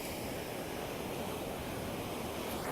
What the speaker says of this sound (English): those waves are cracking